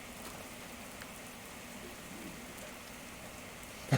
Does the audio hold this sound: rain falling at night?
yes